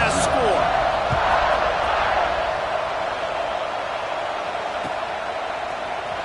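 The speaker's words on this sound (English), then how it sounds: "this crowd is buzzing after that last score" A football stadium crowd at Notre Dame buzzes steadily after a score, a loud, dense roar with a few scattered shouts and thuds spread evenly across the whole stretch.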